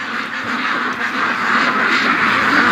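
Ducks raised for charity quack continuously as a crowded flock, a close, busy overlapping chorus that holds steady and grows slightly louder toward the end.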